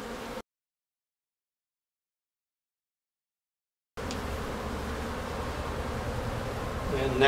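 Honey bees hum around a hive being split into a walk-away split, a steady buzz that cuts out for several seconds of silence, then returns and swells slightly.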